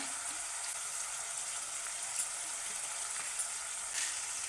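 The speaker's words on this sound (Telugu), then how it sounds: "చూడండి, పోపు వేసుకుంటున్నాం, సన్న జీలకర్ర" Cumin and other tempering spices sizzle in hot oil for a tribal-style mutton curry, a steady, faint crackling hiss throughout with a few small pops.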